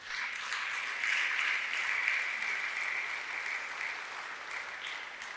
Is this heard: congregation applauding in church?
yes